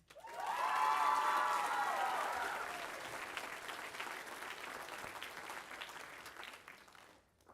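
At a school spring band award ceremony, an audience in a hall breaks into applause with cheering voices, swelling quickly, then tapering into looser clapping before dying away.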